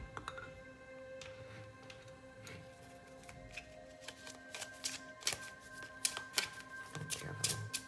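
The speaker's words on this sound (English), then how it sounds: "I'm going to shuffle that very gently" Tarot cards being shuffled gently by hand, soft riffling and light tapping clicks growing a little busier toward the end, close and very quiet, no talking.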